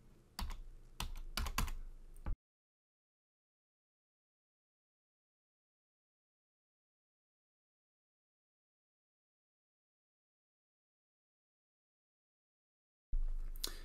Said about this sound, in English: So I'm going to type in 2024 and